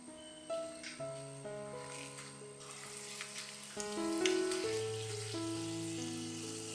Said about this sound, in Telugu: ఇప్పుడు దీనిలో పల్లీలు, పచ్చిశనగపప్పు, మినపగుండ్లు, ఆవాలు వేసుకోవాలి